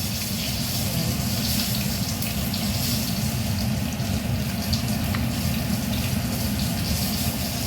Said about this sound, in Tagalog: So, naglagay na ko ng tubig kasi ilaga natin siya.